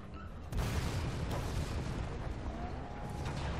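Explosions rumble during the final boss fight of the Resident Evil 2 Remake, opening with a sudden heavy boom and rolling into sustained thunderous blasts and debris noise that hold loud to the end.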